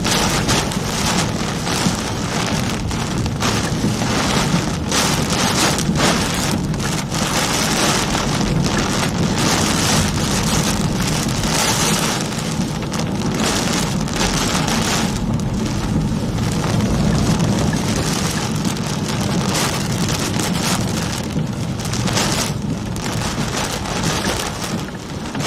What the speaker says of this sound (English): Very strong wind now.